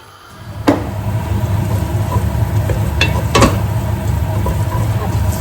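Red and southern Thai curry paste frying in oil for a khanom jeen curry sauce: a steady close sizzle with a couple of sharp utensil clinks against the pan, no talking.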